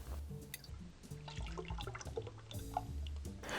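Frangelico hazelnut liqueur pours into a cocktail glass, a close, gurgling liquid stream with small splashes and glugs running continuously, with no one speaking.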